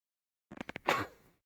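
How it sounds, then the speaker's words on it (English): A person with a cold sneezes: a few quick sharp intakes of breath followed by one burst, close and brief, alone in a quiet room. "There's a little suffering from cold, so that is why the sneezing."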